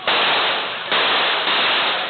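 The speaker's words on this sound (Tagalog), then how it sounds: "sunod-sunod na putok ng baril ang umalingaw-ngaw" A rapid series of sharp, loud gunshots picked up by a CCTV camera on Cagayan Valley Road in Barangay Tabang, Plaridel, Bulacan, bursting repeatedly in dense succession with no voices.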